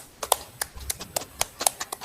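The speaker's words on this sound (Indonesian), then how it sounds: "tepuk tangan buat kita semua" Students clapping hands in a classroom, a sparse scattering of separate claps rather than a full round, fairly close and moderately loud.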